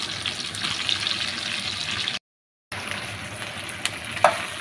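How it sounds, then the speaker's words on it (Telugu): Okra pieces frying in oil for a peanut okra pulusu, a steady close sizzle that cuts out briefly and then resumes, with a faint clink near the end and no speech. "బెండకాయ ముక్కలు మళ్ళీ నూనెలో వేగాలి"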